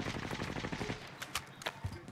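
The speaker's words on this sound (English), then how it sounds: "Keep shooting at him." Rapid automatic gunfire in the video game Warzone, a steady close stream of shots followed by a few separate louder bursts, with faint voices underneath.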